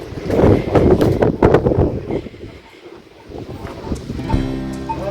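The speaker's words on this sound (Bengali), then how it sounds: "প্রচণ্ড বৃষ্টিও হচ্ছে, হাওয়াও দিচ্ছে।" Heavy rain and strong wind buffet the microphone on the Sandakphu mountain trek, a loud roaring rush that dips briefly midway before gusting again, with no voice over it.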